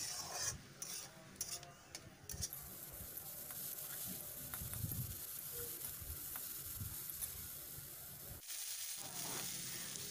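Tomato and peas being stir-fried in a pan, a steady sizzle with scraping and stirring strokes throughout, fairly close, with no talking.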